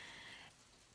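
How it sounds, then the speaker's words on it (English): Freezing rain patters against a window as a soft, dense hiss of fine droplets, faint and steady, easing slightly midway through with no voices. "right now there's freezing rain, and it's sort of slapping up against the window behind me."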